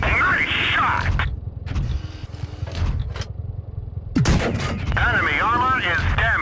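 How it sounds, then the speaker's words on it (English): Tank guns boom in a World of Tanks battle, heavy shots and clanking mechanical noise under swooping, warbling game sounds, with a loud crack near the middle and a voice speaking briefly. "shoot in front of the tank"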